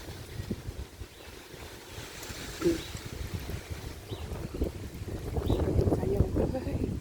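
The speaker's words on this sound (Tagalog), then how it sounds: "ang hangin na tugnaw na" Strong cold wind blowing hard on a Sunday at noon, rushing and buffeting the microphone in uneven gusts that swell louder toward the end, with faint voices underneath.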